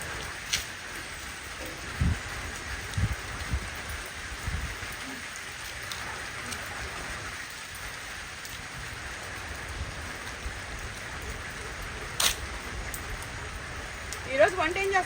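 Steady rain pours outdoors in a lush natural setting, a continuous soft hiss with occasional louder drops and faint low rumbles, no voices.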